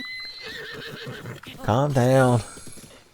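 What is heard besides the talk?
horse hooves clip-clopping while riding, from video game Breath of the Wild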